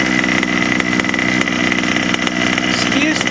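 A Taylor racing engine roars loudly and steadily up close, a rough, buzzing drone with rapid pulsing, while someone talks over it.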